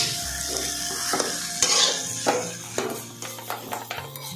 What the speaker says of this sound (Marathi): भाजी अशी मस्त परतून घ्यायची